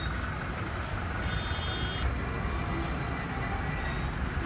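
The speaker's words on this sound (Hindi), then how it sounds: "इसलिए गाड़ी को हम छाया में लगा देंगे।" A Toyota Hilux pickup reversing into a shady spot: a steady, loud engine and road rumble with a short electronic reversing beep partway through.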